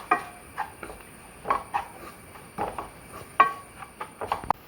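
A spoon or spatula stirs ground coriander, chili, turmeric, garam masala and black pepper powders in a pan for chicken bone roast, giving a run of soft, irregular scrapes and light clinks, close and fairly quiet, with no talking.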